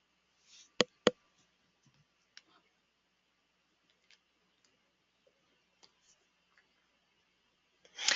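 Computer mouse clicking while navigating a website: two sharp, close clicks near the start, then scattered faint ticks and a louder burst at the very end, with quiet between.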